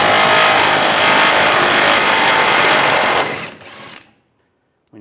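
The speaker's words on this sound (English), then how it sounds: "Take a 21mm socket, take this bolt out." A power tool with a 21mm socket removes a rear bumper bolt on a 2007-2013 Chevrolet Silverado 1500. It gives a loud, close, continuous whirring rattle for about three seconds, then winds down and stops, followed by a brief faint clink.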